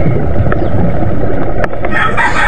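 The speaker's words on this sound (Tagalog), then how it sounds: "Ang iingay ngayon, nagtutulaok na." Free-range chickens in a rural Philippine yard, with a rooster crowing loudly and close over clucking and general farmyard noise, the crow rising in the final second.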